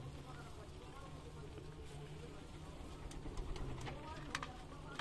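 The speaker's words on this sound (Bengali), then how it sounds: "আমার এখানে অনেক সুন্দর সুন্দর কবুতর আছে, রেসার আছে, গিরিবাজ আছে।" Giribaj and racer pigeons at a breeding farm in Sonamasjid, Rajshahi, coo in soft low repeated calls under a steady background hum, with a few sharp clicks and rustles near the end.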